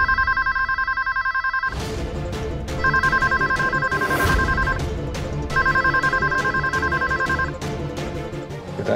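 A home telephone rings on and off with nobody answering, bursts of an electronic ring repeating over a dramatic television music score, with sweeping swells and hits underneath.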